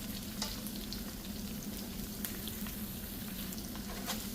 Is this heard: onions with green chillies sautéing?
yes